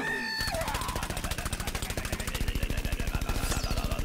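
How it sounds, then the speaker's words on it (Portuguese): Rapid, evenly spaced shots from the Cactus plant in Plants vs Zombies Garden Warfare form one loud, continuous burst. It starts after a brief opening sound and carries on to the end with no talk. "tô ouvindo o cacto aqui, dando paulada"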